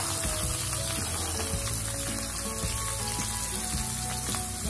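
Vegetables for street-style pav bhaji hitting hot oil in a kadhai, giving a continuous close sizzle and crackle with a few clinks of the spoon, no talking.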